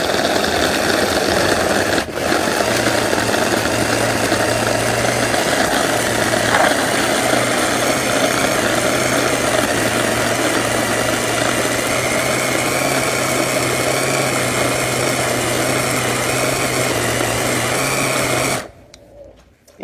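A blender grinding fresh seasonings for Trinidad curry duck, a loud, steady high-pitched motor whine that runs unbroken for most of the stretch, close up, then cuts off abruptly near the end.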